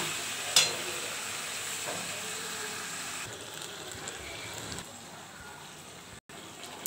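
Mutton masala being stirred in a pan, a soft steady sizzle with occasional spoon scrapes and one sharp clink near the start.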